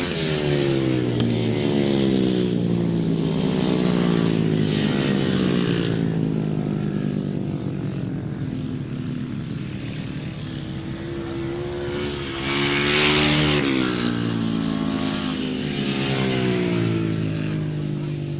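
Solo grasstrack motorcycles race at the Poacher 2000 meeting, a loud continuous pack of engines roaring and rising and falling in pitch throughout, with no speech over them.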